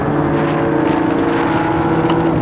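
Steady engine drone of an Audi RS6 accelerating in the racing game Assetto Corsa, a continuous loud hum with a slowly rising pitch and no break.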